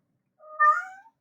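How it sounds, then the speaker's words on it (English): A pet cat gives a single short, clear meow, rising then falling, close by and alone. "that is our cat Demeter, complaining about something we're not sure what"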